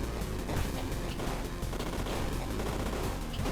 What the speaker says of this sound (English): it seems to be firing piles of grenades at me